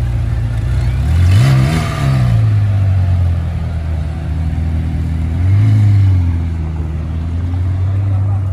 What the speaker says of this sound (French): Pour la McLaren. Toujours aussi bruyante, entre guillemets.